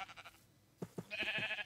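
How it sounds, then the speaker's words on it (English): Sheep bleating in the game Minecraft (Crazy Craft modpack): several short, fairly faint bleats in quick succession, with a longer, steadier bleat toward the end and no talking. "Sheep."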